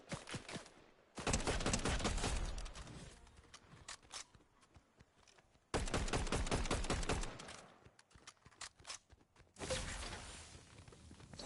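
Automatic gunfire rattles in three loud sustained bursts during a Fortnite match, with quieter scattered shots and movement sounds in the gaps between bursts.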